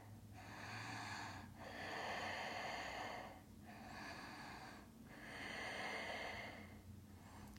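Slow, steady breaths during a side-body yoga practice, several long inhale and exhale swells rising and falling in an even rhythm, close and clear with no talking.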